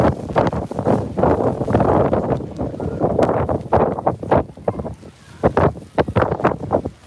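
Strong gusty wind during a snowfall in Elbasan buffets the microphone, making loud irregular bursts of rushing and thumping that rise and fall in rapid surges.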